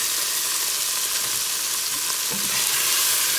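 Beef browns in a pan with a steady, close hissing sizzle that carries on unbroken and fairly loud, with faint stirring scrapes underneath.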